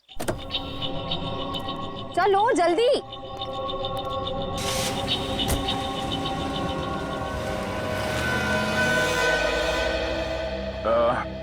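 A car starts up and pulls away with a steady engine hum, with a voice speaking briefly over it and a whining electric sound near the start and again at the end.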